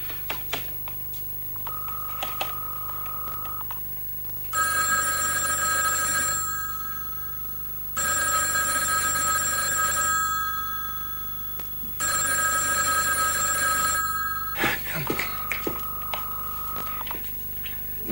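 A telephone rings unanswered in repeated long bursts, three clear rings spaced a few seconds apart, with quieter electronic beeping tones before and after in a still room.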